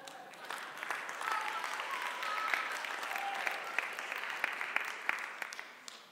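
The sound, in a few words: audience applause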